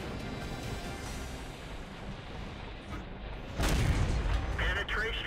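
Tank cannon fire in the World of Tanks video game, with a loud booming blast partway through over continuous battle rumble and noise.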